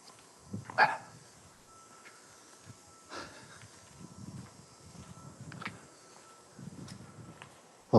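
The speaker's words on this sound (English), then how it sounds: "Some dogs being walked up ahead." Dogs out on a walk a little way ahead give a few short barks and snorts, moderately distant, over quiet outdoor ambience, with one sharper bark early on and a louder bump at the end.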